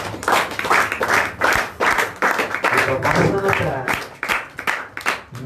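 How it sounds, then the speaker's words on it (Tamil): Church congregation clapping together in a steady run of claps, loud and close, with voices mixed in among the applause. "கைதட்டுமா?"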